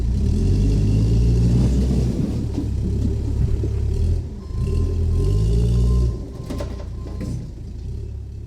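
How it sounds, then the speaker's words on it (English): A truck engine in the video game Inunaki Tunnel starts and then runs with a loud, steady low rumble, easing slightly in the middle before continuing. "Start the engine."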